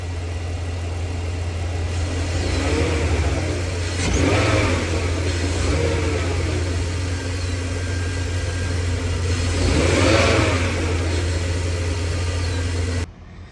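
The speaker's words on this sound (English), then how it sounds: "we're going to do some light revving," Light throttle blips on a 2004 BMW X5's M54 3.0-litre inline-six with 171,000 miles: a steady idle rises in two brief revs, around four and ten seconds, then settles, close and with no talking.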